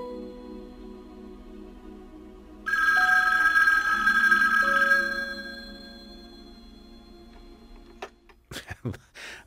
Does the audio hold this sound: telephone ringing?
yes